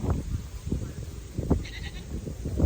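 Goats bleating on a goat farm in Woodstock, Illinois: several short, close bleats in quick succession over a quiet farmyard background.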